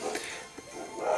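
Dog barking from the Pokémon Black 2 video game: a few short, yippy barks, moderately loud and close, over a soft game-sound background with no talking.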